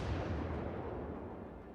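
Deep, rumbling naval gunfire from an enemy ship in World of Warships: Legends, a low booming burst that rolls on steadily and fades slightly over its short span, with no talking.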